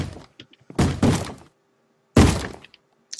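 A Minecraft zombie in the Tekkit modpack pounds on a wooden door in heavy, hollow thumps: a quick double bang, a pause, then another loud hit, close and with no talk over them.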